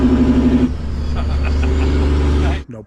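Semi truck with no exhaust pipes or stacks fitted, running loud and close with a deep, steady engine rumble and a brief change in tone early on, before cutting out abruptly at the end.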